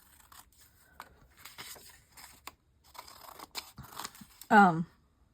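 Scissors snipping out freshly printed pictures for a travel journal, a quiet close series of short irregular cuts and paper rustles, ending with a brief louder sound.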